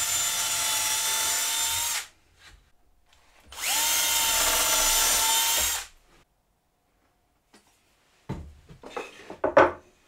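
A power drill bores pilot holes into wood for a wine glass shelf in two loud, steady whining bursts of about two seconds each, followed by scattered handling knocks and rubbing.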